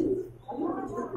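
Lahori pigeons kept as a breeding pair at a pigeon farm, giving soft low throaty coos in two short phrases, close by.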